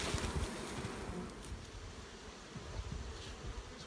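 Honey bees buzz at a weak backyard hive, a faint continuous droning hum with soft outdoor wind noise, distant and unbroken, no voices.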